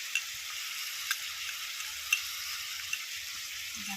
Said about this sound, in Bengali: পোস্তটা একটু কষিয়ে নিই